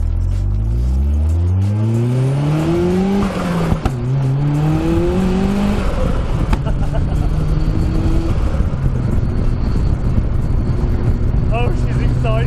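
Turbocharged Mazda RX-5 250 engine revving hard through rising gears on a test drive, loud rising and falling pitch sweeps with tire and road noise underneath.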